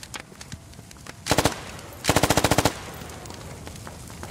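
Automatic gunfire in the video game Call of Duty Black Ops 6: two loud, rapid bursts, a short one and then a longer string of about eight shots, over a quieter background.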